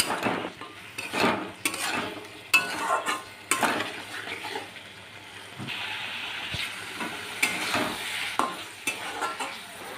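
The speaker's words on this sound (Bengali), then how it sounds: "আলুটার সাথেও আরও কিছুক্ষণ কষিয়ে নেব" Potatoes sautéed with spices in a pan for an egg curry, a steady hissing sizzle broken by repeated scraping and clattering stirs of a metal spoon, close up, with no voices.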